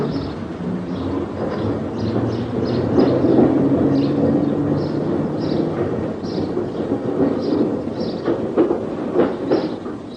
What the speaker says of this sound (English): Today, the train trundles into Ongar Station